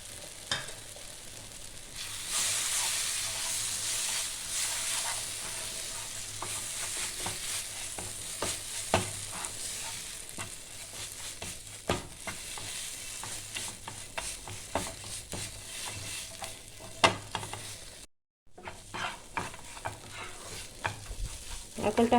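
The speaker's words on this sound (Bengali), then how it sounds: "নারকেলটা হালকা একটু ভাজা ভাজা হবে।" Grated coconut stirred and fried in a pan for a pointed gourd dolma, giving a soft continuous sizzle broken by repeated scraping stirring strokes, with a brief silent gap near the end.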